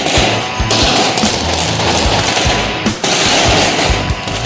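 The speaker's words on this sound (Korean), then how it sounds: "난데없이 총소리가 들리기 시작하는데" Loud, rapid bursts of automatic gunfire from special forces troops training for urban combat in a building, rattling almost continuously with a brief break near the end.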